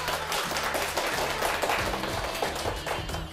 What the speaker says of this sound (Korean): 오늘 유익한 강연 들려주신 이현웅 원장님께 다시 한번 큰 박수 부탁드립니다